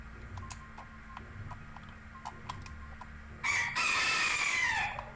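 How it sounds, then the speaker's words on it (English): A pet chicken gives one loud, drawn-out crow near the end, preceded by a steady faint ticking in the background, with no voices. "I have a pet chicken."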